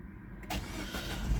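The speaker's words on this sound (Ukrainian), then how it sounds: "Без будь-яких проблем у нас автомобіль заводиться" A used car with 218,000 km on it cranks briefly and catches, settling quickly into a steady idle; the start is short, close and fairly quiet, with no voices.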